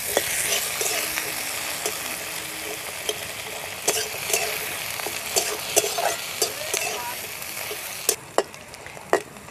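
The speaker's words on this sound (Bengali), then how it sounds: "পেঁয়াজ রসুনটা লাল লাল ভাজা হয়ে গেছে" Chopped onion and whole garlic cloves frying in hot oil for a duck curry, a steady sizzle broken by repeated stirring scrapes and clinks of a spatula against the pan, close and fairly loud.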